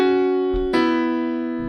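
Two sustained sung voices holding a medieval-style harmony together, with a brief break and a fresh attack midway, sounding solemn, churchy and chant-like.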